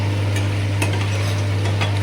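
Potatoes and cauliflower being stir-fried with spices, a constant close sizzle with faint stirring scrapes over a steady low hum.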